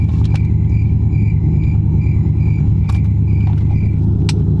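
A Chrysler 300 SRT8 with a loud straight-pipe exhaust driving, a heavy, throbbing low exhaust drone heard close and constant, with a few faint clicks and rattles on top.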